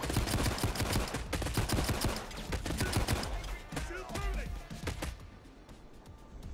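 Gunfire during a Payday 2 shootout with snipers, a dense burst of rapid, loud shots for several seconds before it thins into scattered cracks, with game clutter underneath.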